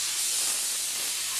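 A spray gun applying cement coating gives off a steady, loud, bright hiss, continuous and unbroken from start to finish with no voices.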